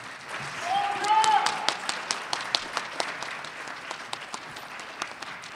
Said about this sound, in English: Let's give one more round of applause to Sharon Wilder.